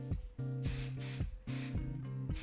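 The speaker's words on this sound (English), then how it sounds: "So now I can coat with my final layer of primer, and then it is ready for painting." Aerosol primer sprays onto a Hot Wheels Porsche 917 LH model in three or four short, close hissing bursts with brief gaps between them.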